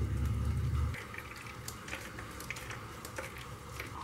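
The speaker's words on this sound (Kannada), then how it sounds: "ಇವಾಗ ಇದನ್ನು ಶೋಧಿಸ್ಕೊಳ್ಳೋಣ" Freshly ground coconut is strained through a filter to extract coconut milk. A low rumble first fades into quiet, scattered drips and soft squishing of liquid passing through the mesh, close by, with no speech.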